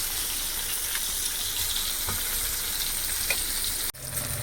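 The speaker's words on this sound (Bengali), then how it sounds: "মাছটাকে ভেজে নিয়েছি ভালো করে, 2 পিস লাল লাল করে।" Two pieces of Rupchand fish fry in hot oil with a continuous, even sizzling hiss close by. The sizzle ends in a brief clatter near the end.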